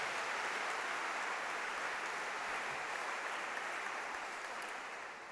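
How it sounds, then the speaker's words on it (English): An audience at an education foundation awards ceremony claps in a steady, dense wash of applause, heard from a slight distance, that holds evenly and eases off a little at the end. "Let's give them a big round of applause."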